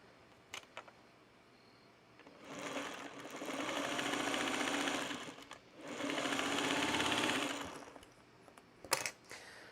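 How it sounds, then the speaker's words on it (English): Two bursts of sewing machine stitching a seam on quilt patch blocks, each a few seconds long, with a short pause between and light handling clicks before and after. "take it to my sewing machine, sew a seam here."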